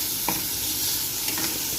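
Masala paste hits sizzling fried onions for a Maharashtrian okra (bhendi) bhaji, giving a steady hiss with a few soft stirring scrapes, fairly quiet and with no voices.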